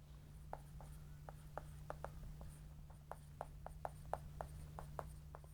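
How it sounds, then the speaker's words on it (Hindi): Pen strokes from someone hand-writing out a coding example, a series of short scratchy marks in quick irregular bursts, close and quiet over a steady low hum. "मैं एग्जांपल दोबारा से लिख लेता हूँ"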